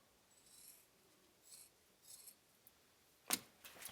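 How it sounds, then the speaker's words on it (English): Scissors snip rawhide stretched over the back of a bow, a few soft, close cutting strokes spaced apart, then one sharper, louder snip near the end. "we're just going to go ahead and trim this end off."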